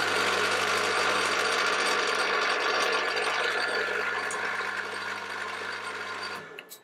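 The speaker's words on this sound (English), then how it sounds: "Now I'm drilling all these holes with a 5mm drill." A 5mm drill bores holes in metal parts of a knurling tool kit, a steady loud mechanical whir with gear-like rattle running continuously before winding down at the end.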